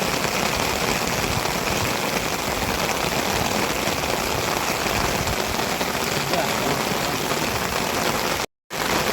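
Steady rain falls in Kokan during the season's first rain, a dense continuous hiss of drops on surfaces that stays loud and even throughout, with a brief dropout near the end.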